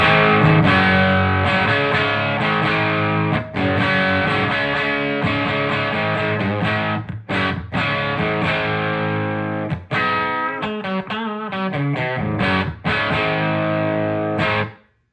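Electric guitar played through a Joyo Bluejay Bantamp amp with the bright switch on, a sustained driven tone with strummed chords and note runs, lightly distorted, played alone without talk until it stops abruptly.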